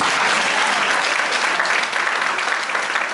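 Sustained applause and cheering from a church congregation praising Jesus, a dense, steady roar of clapping that fills the space without pause.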